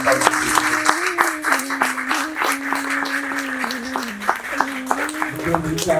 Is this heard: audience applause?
yes